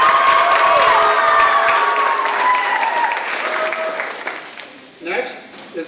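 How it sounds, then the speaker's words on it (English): Audience applause at a civics bee event, a loud sustained round of clapping mixed with crowd voices that gradually fades, ending with a brief burst of voices near the end. "Please give her a round of applause."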